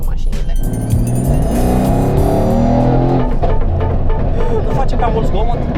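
A Mercedes-AMG engine running in Sport Plus mode, a loud, close rumble with rising revs and throaty exhaust, while people talk over it.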